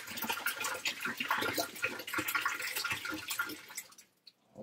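Water softener cleanser is poured from a bottle into an empty brine tank, making a close, steady splashing trickle that tapers off and stops just before the end.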